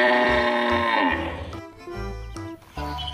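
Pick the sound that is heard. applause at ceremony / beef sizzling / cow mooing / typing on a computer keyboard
cow mooing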